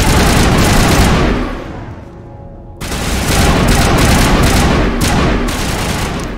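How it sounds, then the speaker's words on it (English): Loud gunfire in the Mass Effect video game, dense rapid bursts of shots that fade briefly into a low rumble, then resume as sustained heavy firing. "We're shooting at nothing."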